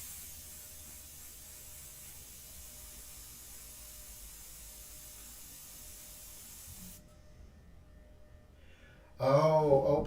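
An airbrush sprays opaque airbrush colors onto a portrait in India ink, a steady soft hiss running for about seven seconds before it stops, followed by a brief louder burst of noise near the end.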